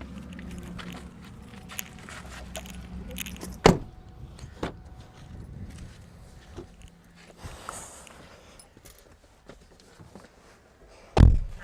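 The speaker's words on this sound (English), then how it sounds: "let me move the front seat all the way forward" Front seat of a 2012 Hyundai i20 sliding forward inside the car, with soft rustles and mechanical shuffling and two sharp clunks as the seat latches, close by and otherwise quiet.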